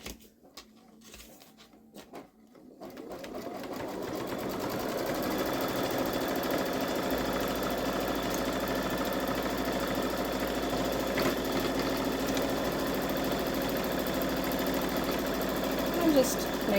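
A Babylock Solaris embroidery machine stitches around the hoop, starting after a brief quiet moment and then running as a steady, rapid mechanical whir and patter at close range.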